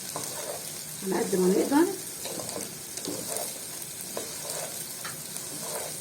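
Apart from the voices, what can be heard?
stirring and sautéing pasta with spices in a pot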